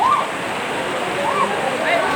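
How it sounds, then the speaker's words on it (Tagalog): High river floodwater rushes past a market site in Calbiga, Samar, as a loud, steady, broadband roar with no pauses. "Mabagal bumaba yung tubig dito kasi sobrang taas ng ilog ngayon."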